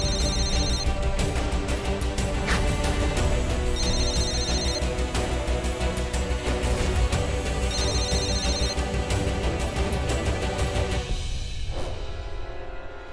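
A telephone rings repeatedly on an outgoing call, short regular bursts of a ringing tone repeating every few seconds over a loud, dense background of music or noise.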